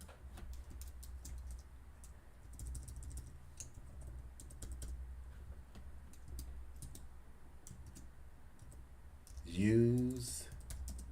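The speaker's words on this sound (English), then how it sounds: "We're going to go ahead and type it in." Typing on a computer keyboard, a steady run of light, quick clicks kept at low level throughout, with a brief louder voice-like sound near the end.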